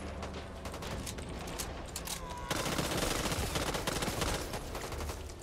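Sustained automatic gunfire from the zombie shooter Back 4 Blood, dense rapid bursts that grow louder and heavier partway through, with game effects mixed in.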